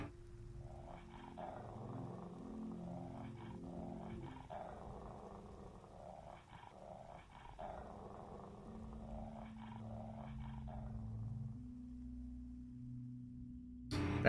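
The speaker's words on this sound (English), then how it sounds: "That's a bit spooky, the growling dogs." Growling dogs in a puzzle video game, low rumbling growls repeating in a slow rhythm over a quiet droning background, moderately close and without speech.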